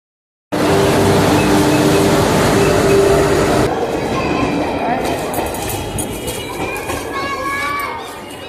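Inside a moving passenger train, a loud steady rumble of wheels on rails with rattling carriage noise and faint squeals, starting abruptly after a short silence and continuing throughout.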